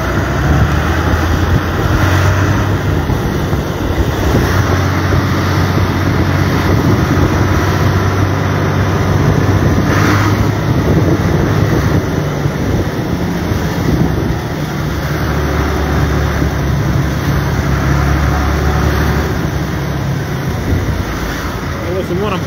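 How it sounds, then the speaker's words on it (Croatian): A large tractor drives past in a farmers' protest convoy, its low, steady engine rumble running close and continuous under heavy wind buffeting on the microphone. "Evo kao što vidite i drugi traktor iza nas i on u koloni prolaže."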